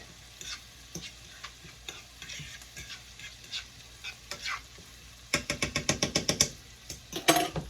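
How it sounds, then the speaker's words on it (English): Minced garlic sizzles in a pan with a soft frying hiss under irregular spoon scrapes. A quick run of sharp, rhythmic stirring taps follows near the end, close and moderately loud. "So I'm adding my minced garlic."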